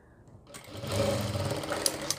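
A sewing machine starts up and runs steadily while stitching a reusable baby diaper, a close, even mechanical whir rising from silence and holding, with a couple of faint clicks near the end.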